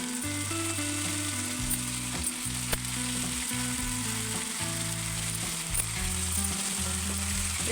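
Ridge gourd fries in hot tempering oil with turmeric for a South Indian curry, giving a loud, continuous close sizzle with steady crackle and occasional stirring clicks, with no talking.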